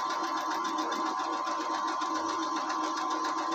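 A sewing machine stitches cloth for a swing frill, running as a steady, even, continuous whir that stays close and level throughout with no pauses.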